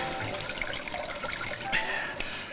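Water trickling in over stone, a steady close dribbling and splashing with a faint hiss, continuous throughout.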